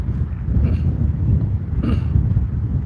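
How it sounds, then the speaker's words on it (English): Loud wind buffets the microphone in a constant low rumble with gusty surges, close and roaring, with no voices, outdoors at a Jeep Weekend town hall meeting. "Man, it's windy on this side too."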